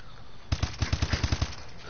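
Automatic gunfire in a ranked-play video game: one rapid burst of about nine sharp, loud shots fired in quick succession midway through, with quiet before and after.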